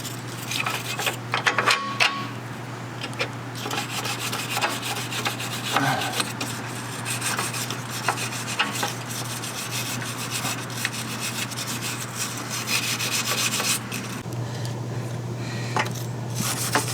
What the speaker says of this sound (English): the brush is pretty good for getting in here in these components